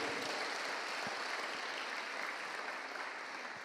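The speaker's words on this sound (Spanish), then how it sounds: "dale un aplauso de gracias al Señor por la libertad en tu casa." Worshippers at a church service clap together in thanks, a continuous wash of applause from many hands heard at a moderate distance, even and unbroken throughout with no speech over it.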